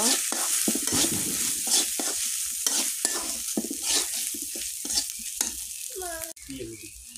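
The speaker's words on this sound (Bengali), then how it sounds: "এখন আমি বাদামটা দিয়ে দেব, তেলে একটু ভেজে নেব।" Peanuts frying in oil in a pan, a loud continuous sizzle broken by regular scraping strokes of a spatula, ending with a brief pause and a voice.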